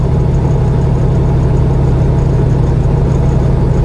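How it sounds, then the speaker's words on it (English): A car engine holds high RPM after a downshift, a loud, steady droning hum running unbroken from start to end. "As Lynn Block says, I gotta keep the RPM high to keep the engine cool."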